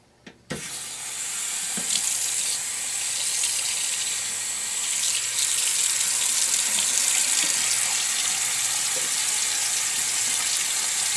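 Tap water runs steadily into a sink as debris is washed down the drain, a continuous close hiss after a brief clunk at the start, with no talking.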